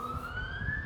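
An ambulance siren wails steadily in the distance, a faint continuous rising tone over low room rumble, with no voices heard.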